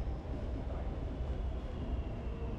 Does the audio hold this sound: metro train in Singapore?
yes